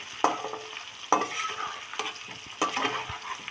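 Dried red chillies and garlic sizzling in a pan for olive pickle, with three distinct spatula scrapes at intervals over a continuous close frying hiss, no voices.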